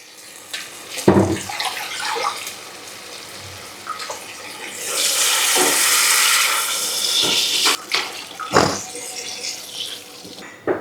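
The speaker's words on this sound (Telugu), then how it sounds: "2 డబ్బాలు వాటర్ వేస్తాను." Water poured from a container into a pan of wheat rava upma with curry leaves, a steady rushing pour at close range lasting a few seconds, framed by brief clinks and kitchen handling noises.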